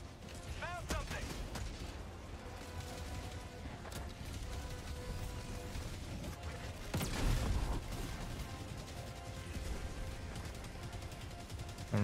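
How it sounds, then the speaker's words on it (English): Explosions and heavy gunfire in Helldivers 2 gameplay, with a loud blast near the middle over a steady stream of shots and mechanical clatter, and a voice talking intermittently. "That explosion helped me out or not."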